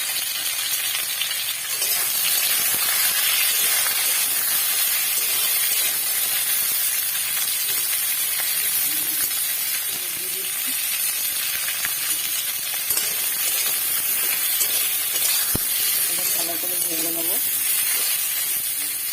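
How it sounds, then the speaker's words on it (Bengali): Sliced bitter gourd (karela) frying in hot ghee in a pan gives a steady, close, even sizzle and hiss throughout, with faint stirring scrapes underneath. "এখানে একটু হালকা ভেজে নেবো তারপরে এটাকে আবার পেঁয়াজকে ভাজবো"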